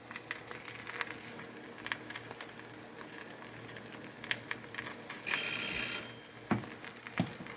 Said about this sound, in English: That was my timer telling me the chicken was done.